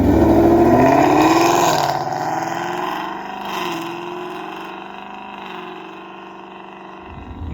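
A 2024 Mustang GT fitted with a Milltek active exhaust pulls away in quiet mode, its loud engine note swelling at launch, then dropping to a steadier, softer drone as the car moves off.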